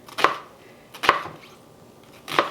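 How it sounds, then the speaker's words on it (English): Three crisp knife chops slicing fire cider ingredients on a cutting board, spaced about a second apart with quiet pauses between, close and clear with no talking. "And this, I'm just going to slice like I did the orange."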